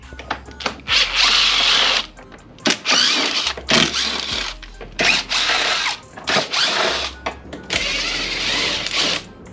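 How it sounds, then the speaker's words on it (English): A power driver backs out a T30 Torx bolt from a UTV front bumper fascia, loud close whirring bursts in repeated stop-start runs of one to two seconds each. "So we're gonna remove this T30, and there's a nut on the back side, so you gotta hold the nut."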